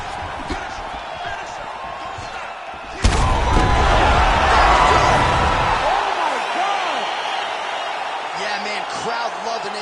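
A virtual arena crowd in EA Sports UFC 5 erupts into loud, sustained cheering right after a sharp impact, swelling and then slowly fading as the fight ends.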